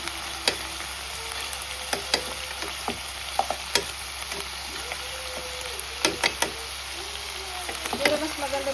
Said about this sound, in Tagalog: I-add natin yung bawang at sibuyas.